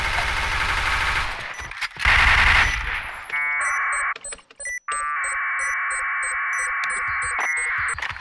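Rapid automatic gunfire in the Point Blank shooter game, loud sustained bursts broken by short gaps, followed by electronic buzzing game tones, with no talk over it.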